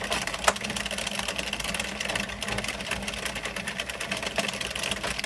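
An Addi Express Kingsize knitting machine runs after being taken apart and reassembled, a steady clattering mechanical whir with rapid rhythmic clicks heard up close and continuously.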